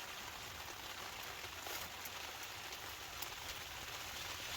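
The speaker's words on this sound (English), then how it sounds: "it has not stopped raining" Faint, steady patter of heavy rain on a dome tent while wild camping in Scotland, a soft continuous hiss with occasional sharper drops, no voices.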